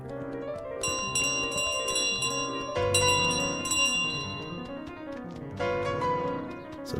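In Untitled Goose Game, a small handbell jingles in bright, repeated clusters of ringing as the goose runs, with bursts of activity and brief pauses, clear and close with no talking.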